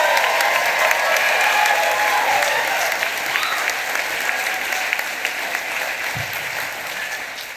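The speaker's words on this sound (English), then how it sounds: "Let's make some noise for those graduates." A large graduation audience applauds loudly and steadily, with a few cheers, the clapping slowly fading over several seconds.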